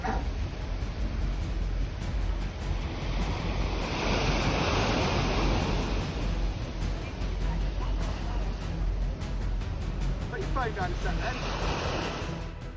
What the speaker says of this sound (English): Beautiful boat ambience.